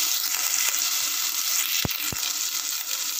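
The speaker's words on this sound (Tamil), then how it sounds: "ஒரு அரை ஸ்பூன் இஞ்சி வெள்ளப்புடு பேஸ்ட் நல்லா மிக்ஸ் பண்ணிக்கங்க" Ginger garlic paste frying in a pan: a loud, even hiss of hot oil fills the whole stretch, broken near the end by two sharp knocks from the spoon against the pan, with no voices.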